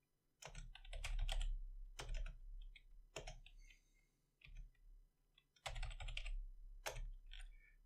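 Bursts of quick clicking keystrokes on a computer keyboard while JavaScript code is entered, coming in irregular clusters separated by short pauses, close and clear with no talking.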